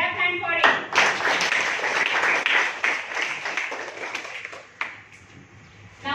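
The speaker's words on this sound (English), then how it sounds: "Clap hand for it." Students clapping hands in a classroom during a quiz competition on harvest festivals, a lively burst of claps right after a voice, fading gradually over several seconds.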